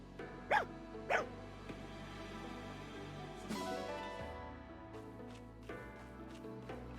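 A dog in the Fire Emblem Engage video game gives two sharp, close barks in quick succession, followed by softer game sounds and a few faint clicks.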